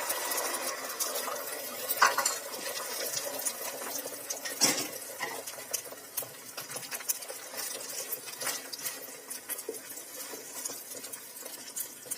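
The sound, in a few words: egg frying in oil on a hot griddle (tava)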